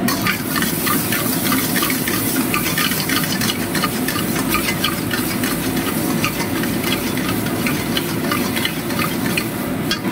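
Chopped tomatoes sizzle and fry in a hot pan while being stirred, for a chicken Nargisi kofta gravy with onions; a steady, close, continuous frying hiss with scraping stir sounds throughout, no talking.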